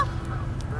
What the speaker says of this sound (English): And then there are the geese.